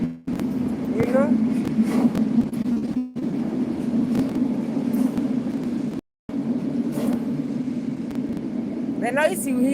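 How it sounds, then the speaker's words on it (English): A train passes in the background as a steady low rumble that runs on beneath a person talking indoors, with brief breaks in the sound. "The noise you hear background is a train."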